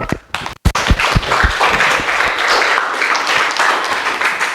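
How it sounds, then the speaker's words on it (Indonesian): A classroom audience gives a student group a hearty round of applause after its presentation, with dense, close hand clapping sustained throughout after a few scattered opening claps. "Kita beri aplaus dulu"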